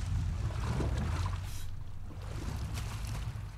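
A boat in the video game Uncharted 4 pulls in and parks, giving a low, steady rumble of engine and water that fades slightly toward the end.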